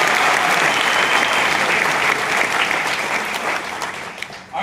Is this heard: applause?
yes